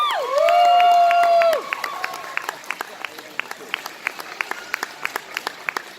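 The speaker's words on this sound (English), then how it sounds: "Big round of applause." Audience at a cosplay competition event applauds a prize winner, a loud wash of clapping with a sustained whistle or cheer at first, settling into scattered individual claps.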